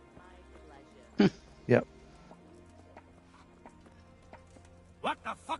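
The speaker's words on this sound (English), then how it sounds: "Oh, now he moves quicker. That's Sir Hapon's horse, I believe." Horse hooves clip-clop in the medieval video game Kingdom Come Deliverance II, a handful of distinct clops spaced unevenly, with a brief spoken word from a person.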